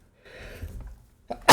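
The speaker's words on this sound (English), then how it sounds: "sorry if I'm sneezing so much through these modules" A single human sneeze from someone who is slightly sick: a soft breathy intake building up, then a sudden loud, sharp burst at the end, close to the microphone.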